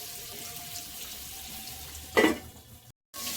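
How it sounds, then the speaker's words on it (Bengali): Potatoes coated in turmeric fry in a pan, giving a steady low sizzle that jumps into a brief louder crackle near the two-second mark, as if they were stirred. A short gap of silence follows before the frying resumes. "এবার দেখি আলু ভাজাটা কেমন হবে।"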